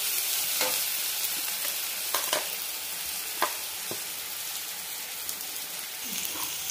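Chopped onion frying in a pan, a soft continuous sizzle with occasional scraping stirs from a spatula, fairly quiet and close, no talking over it.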